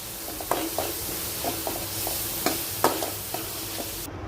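Schezwan fried rice being stirred and tossed in a pan with masala and salt, soft sizzling under a series of distinct spatula scrapes and knocks spaced irregularly, about ten strokes, no voices.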